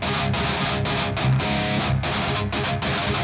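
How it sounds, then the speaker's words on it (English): A distorted electric guitar plays a chugging riff with only light palm muting, a thick and steady wall of sound with short breaks, loud and close without speech. "if you're palm muting light, that stuff doesn't sound like it does on the album."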